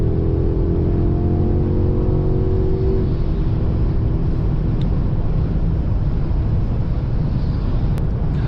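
Steady low road and engine drone inside a 2021 Mercedes S-Class S580 on the move, with a faint whirring tone early on, heard from the cabin, continuous and fairly loud, no speech.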